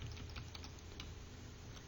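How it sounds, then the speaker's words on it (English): Quiet computer keyboard typing, a run of soft, irregular key clicks tapping along steadily at close range with no voices over them. "I'll push the control key on the keyboard."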